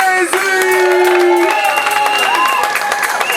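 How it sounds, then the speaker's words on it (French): A church congregation bursts into loud applause during a lively service, with clapping and crowd noise over sustained music chords, close and dense throughout the short moment. "Est-ce que tu peux faire un tonnerre d'applaudissements pour Jésus"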